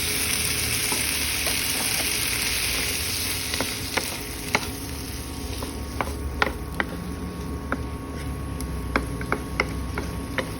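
Corn sizzles steadily in hot oil in a pan, a constant hiss with scattered sharp pops and spatters that come more often as it goes on, with no voices.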